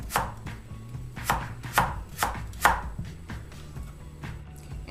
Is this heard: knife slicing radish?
yes